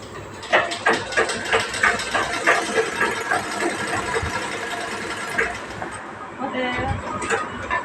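A sewing machine stitches a dress late at night at home, its needle chattering in quick rhythmic bursts up close, with a dog whimpering and barking nearby and voices talking over it.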